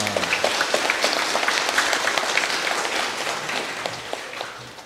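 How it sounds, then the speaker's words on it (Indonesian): Sustained applause from a large congregation at a Catholic church blessing Mass in Jatisrono, Indonesia, a dense, even patter of many hands clapping that fades slightly at the end. "Tepuk tangan untuk kita semua."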